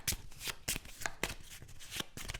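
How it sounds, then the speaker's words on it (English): A deck of cards for the board game Apiary is shuffled close by in a quick series of crisp riffling bursts at an uneven rhythm, with no talking. "So now we shuffle them all, and we have a new deck."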